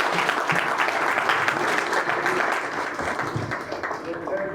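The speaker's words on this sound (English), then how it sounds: "Just give him a hand of applause" Applause at a book launch, a steady crowd of clapping hands that holds even and fairly loud throughout, with a murmur of voices mixed in.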